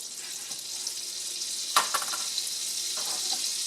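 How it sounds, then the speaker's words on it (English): Onion frying in butter in a pan, a steady soft sizzle throughout with a few brief clicks and clatters of a utensil. "fry the onion a little bit, you know, give it a little bit of time to caramelize"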